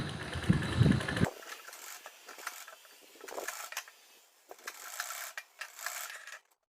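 Domestic sewing machine running a straight stitch to join a collar onto a baby dress (jhabla): a soft, quiet mechanical whirr in short bursts with brief pauses, heard alone.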